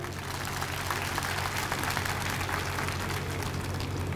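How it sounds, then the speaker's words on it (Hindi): Loud, steady applause from a large crowd at a BSP party cadre camp review meeting in Haryana, dense and continuous throughout with a low hum beneath. "आप सभी के लिए एक बार जोरदार तालियां हो जाएं"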